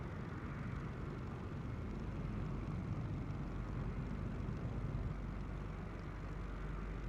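AI-controlled airliners fly around a busy airport in Microsoft Flight Simulator 2024, giving a steady, continuous jet engine roar with a low rumble that holds at an even level throughout, with no talking.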